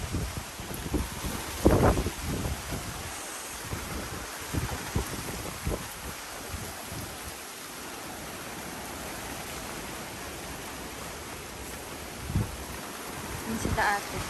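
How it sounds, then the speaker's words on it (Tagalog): Strong wind gusting through banana leaves on a banana plantation, a steady broadband rush with rustling bursts and microphone buffeting, louder gusts near the start and end. "Grabe lakas. Lakas ng hangin."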